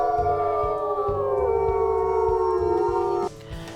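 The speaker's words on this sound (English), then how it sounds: "Let's do one more howl." A wolf in the WolfQuest video game gives a long, sliding howl over a low rhythmic game background, loud and close, ending abruptly near the end.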